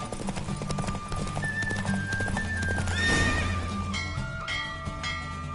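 A horse gallops flat out in a race in Witcher III on PS5, its rapid clip-clop hoofbeats loud and steady throughout, with a neigh rising over the run and faint tones in the background.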